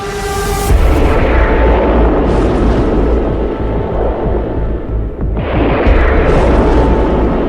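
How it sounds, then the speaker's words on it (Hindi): Iranian missiles strike Israel, a loud sustained rumbling roar with a deep low throb and a sharp surge near the start and again toward the end, no voices. "जून 2025 में जब इजराइल पर ईरान ने ताबड़तोड़ मिसाइलें दागी थी"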